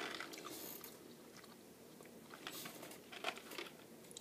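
Someone chews sour watermelon Mike and Ike candy, with soft, close, wet crunching and squishing bites at an irregular pace and no talking.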